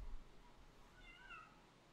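A single faint cat meow, short and rising, heard alone in a quiet room after a soft thump.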